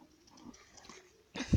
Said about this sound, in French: C'est un husky sibérien, ou husky sibérien. C'est un mâle.